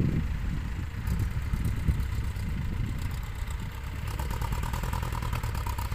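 Tractor engine running in a sugarcane field during manure spreading, a steady low diesel drone with some clatter, moderately loud and continuous, without speech.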